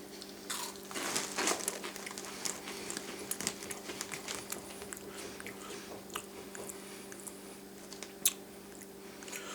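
Dry Wendy's Frosty cereal with marshmallows is crunched and chewed close to the mic, a steady run of small crisp crackles with a few sharper bites, no talking.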